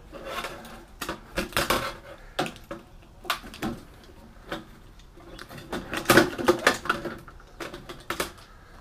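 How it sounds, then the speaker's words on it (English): Wires being snipped from a circuit board salvaged from a scrapped X-ray machine: irregular sharp clicks and scraping rasps, close and fairly loud, scattered across the whole stretch with no talking. "Just cut some of these wires off."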